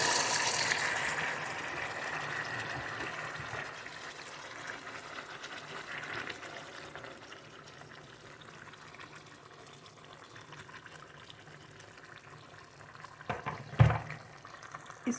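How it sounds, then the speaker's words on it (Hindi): Hot water poured from a cup over fish and potato curry in a pan, a soft steady splashing pour that fades into quiet simmering, ending with a brief clatter of the pan or lid. "और इसके ऊपर हम 1 कप गर्म पानी डाल देंगे।"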